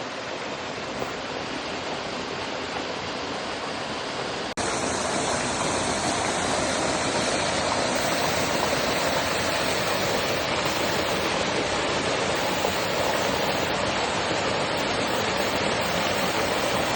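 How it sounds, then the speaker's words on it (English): A huge waterfall roars in a broad, steady wash of noise that jumps louder a few seconds in and then holds constant, close and enveloping, with no voices. "We got this huge waterfall."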